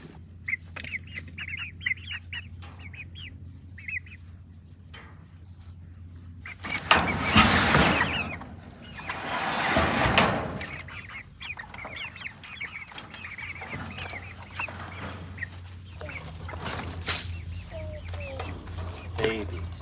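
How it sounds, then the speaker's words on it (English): Chicks and hens cluck and peep in short bursts near the microphone, with a steady low hum and a couple of louder rustling swells. "I'm pouring water for the chickens, for the baby chickens."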